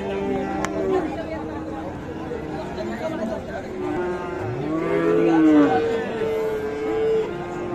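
Friesian and cross-breed cattle and calves low and moo repeatedly at the busy Ambari livestock market in Dinajpur, rising over steady crowd chatter and background voices.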